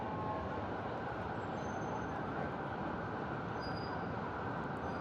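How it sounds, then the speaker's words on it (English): A busy New York City train station on Independence Day gives off a constant dense rumble of trains and crowd noise. The sound is even and unbroken throughout, with no clear speech. "This is the train station."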